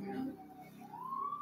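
An ambulance or police car siren passes by, its wail rising and sliding steadily upward, clear and fairly loud for about a second and a half.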